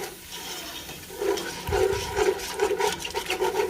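Milk poured into a pot of potato soup and whisked, a wet sloshing pour followed by repeated rhythmic swishing strokes growing louder, close up with no talking.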